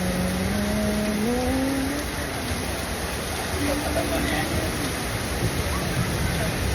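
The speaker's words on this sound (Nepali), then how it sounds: "पानी चाहिँ बवाल परेको अवस्था छ काठमाडौँमा" Heavy rain pours down in Kathmandu as a loud, unbroken wash of noise, with a voice speaking over it.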